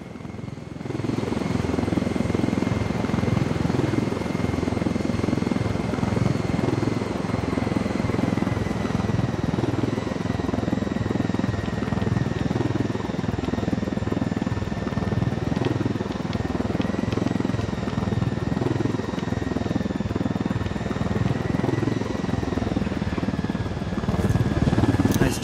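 Helicopter flying in the video game Ghost Recon Wildlands, a loud, continuous rotor and engine drone with steady chopping pulses that stays close and constant throughout, with no voices.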